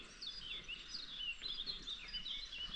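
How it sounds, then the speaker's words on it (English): Birds sing in the woods, thin high chirps and warbling phrases repeating softly at a moderate distance over a quiet low outdoor rumble, no voices. "Birds in the woods, singing just beautiful."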